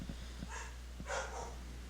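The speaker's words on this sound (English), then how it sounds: "but my dog is barking" A dog gives two short, muffled barks somewhere in the distance over a low, steady hum.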